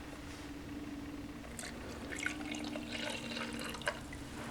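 Water poured over dark European-style cocoa drink powder from a French freeze-dried ration, a soft close trickle and splashing that swells midway and then tapers, with a low steady hum underneath.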